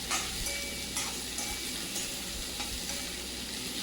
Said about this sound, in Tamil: இதையும் வந்து வெங்காயத்தோடு சேர்த்து நல்லா வதக்கி விட்டுக்கலாம்.